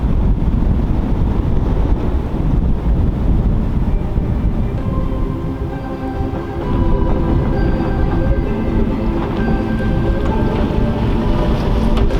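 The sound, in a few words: strong wind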